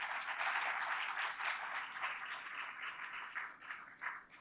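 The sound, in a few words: audience clapping to welcome a lecturer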